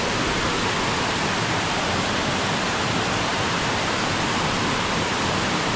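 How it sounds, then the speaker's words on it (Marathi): Manche waterfall at Devgad in Konkan, a tall cascade of white water, gives a steady, dense roar that fills the whole clip evenly without pauses or voices. "आणि समोर धबधबा दिसतोय मस्त एक नंबर"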